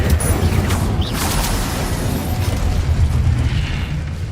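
A Confringo or Incendio fire spell bursts in Hogwarts Legacy, a continuous loud crackling explosive roar that rumbles steadily through the whole moment without pause.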